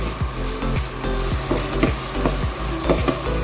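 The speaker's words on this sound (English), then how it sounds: "So these onions should not turn dark black and all. It should not get burnt, but still it should turn crispy." Onions frying in hot oil for chicken biryani, a steady close crackling sizzle with regular scraping knocks of a spoon stirring the pan.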